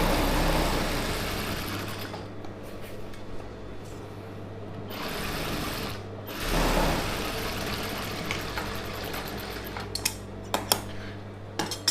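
An Usha sewing machine stitches a Patiala pant with a steady low mechanical hum that dips and swells, ending with a few sharp clicks.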